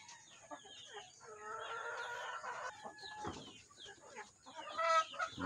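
Backyard chickens cluck and squawk nearby while feeding, with bursts of rising cackles and a rooster-like call, fairly faint against a quiet background.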